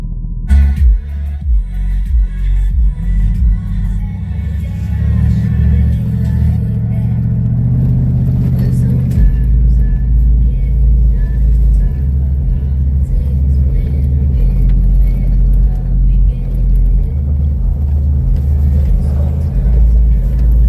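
An off-road vehicle in two-wheel drive labors up a rough hill climb at Wheeler Pass near Pahrump, Nevada, its engine droning loud and close with a deep, steady rumble and rising strain throughout.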